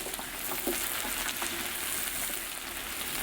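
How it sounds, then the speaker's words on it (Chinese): Doubanjiang bean paste frying in oil in a wok, bringing out red chili oil: a continuous, even sizzle with fine crackling throughout, fairly close, with no talk. "放点豆瓣酱在里头，炒出红油来。"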